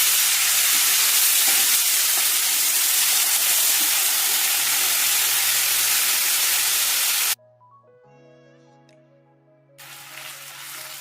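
Steady, loud sizzling hiss of flipped tandoori chicken pieces cooking in a pan fills most of the clip, then cuts abruptly to quiet tonal background music before the sizzle briefly returns.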